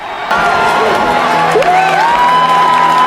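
A school audience cheers and applauds a boxer after a bout, sustained crowd noise with shouts, whoops and clapping that start abruptly and carry on loudly to the end.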